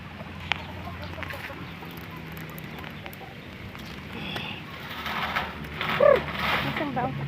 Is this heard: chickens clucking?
yes